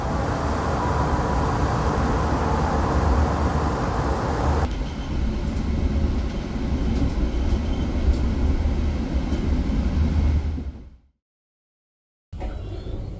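KA Mataram economy train running at speed through the night after leaving Jatibarang station, a steady loud rumble of wheels on rail with a shift in tone midway, then a sudden drop to near silence before the noise returns.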